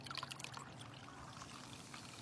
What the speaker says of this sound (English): Every Sprite is pouring out Coke.